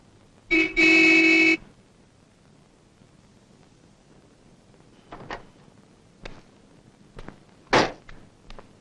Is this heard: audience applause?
no